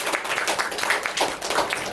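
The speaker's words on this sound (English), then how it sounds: "Give a huge round of applause for Manish" An audience applauding a speaker after a question and answer session, a short burst of steady, fairly close clapping that stays even throughout.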